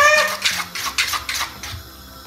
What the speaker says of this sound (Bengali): এখন এই কাঁটা চামচটা সাজিয়ে আবার একটু মিক্স করে নেব।